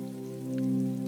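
Steady rain falling outside a cozy bakery, a continuous soft patter with a low, even hiss that swells slightly midway, with no voices.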